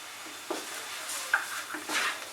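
Spices for masoor dal tadka frying and being stirred in a pan, with soft sizzling and a few scraping spoon strokes, close and fairly quiet.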